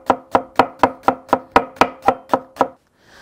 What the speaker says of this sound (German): diese rote Zwiebel schneiden wir jetzt in feine Scheibchen